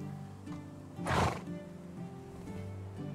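A horse in the medieval village-building game Medieval Dynasty gives a single loud whinny-like call near the middle, over a steady background of game music and ambience.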